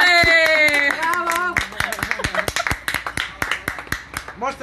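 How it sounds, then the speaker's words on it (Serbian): An audience claps in a steady, rhythmic beat, the sharp claps repeating evenly after loud voices call out over them at the start. "Ajmo sad aplauz."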